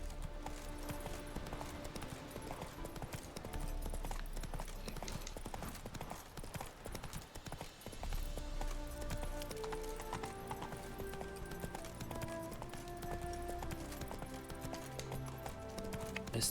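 Roach, the horse in The Witcher 3, gallops with rapid rhythmic hoofbeats over a layer of game music and effects, joined by an occasional whinny, steady and close throughout.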